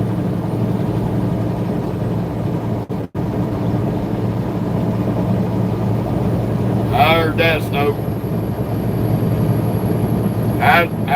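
A truck engine drones steadily while cruising on a highway at about 70 miles an hour, a constant low rumble filling the cab as someone talks over it in short bursts.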